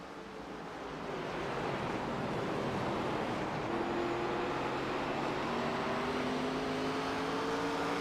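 ARCA race cars accelerate off the start at USA Speedway, a broad rising roar that swells in the first seconds and then holds steady, with engine tones climbing in pitch over wind-like noise, distant and without voices.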